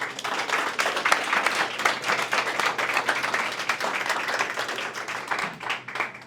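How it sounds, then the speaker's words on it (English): A crowd at a live AI business event gives a steady round of applause, dense overlapping clapping held at an even level for several seconds, moderately loud with no voices. "let's give them a round of applause"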